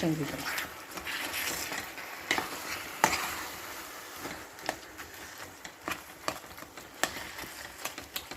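Brinjal bharta is stirred into a cooked, oily masala in a Punjabi-style pan, producing a soft sizzle broken by repeated scraping strokes and clicks of a spoon against the pan.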